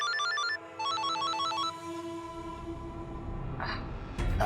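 A telephone ringtone plays a repeated electronic melodic pattern in two short bursts, then gives way to rumbling background noise and clattering as the ringing stops, with no voices.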